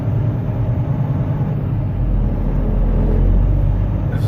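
Truck cab interior while driving over hard-packed snow in a Michigan blizzard, a steady deep engine and road rumble that swells slightly toward the end, close and constant.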